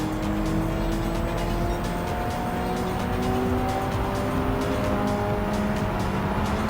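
A race car engine in Gran Turismo 7 roars steadily with shifting revs and tire noise, continuous and close, with no talking.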